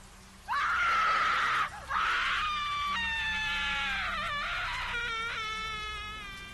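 Loud shrill screams rise in long wailing bursts with a brief gap between the first two, then fade into strained, descending cries.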